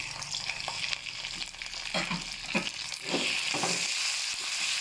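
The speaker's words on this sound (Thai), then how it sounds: "มาผัดหมูผัดเส้นหมูต้องมากเลย" Pork pieces sizzle and crackle in a hot pan while being stir-fried for pad see ew with wide rice noodles, with several scraping stirs of a utensil breaking up the steady frying hiss.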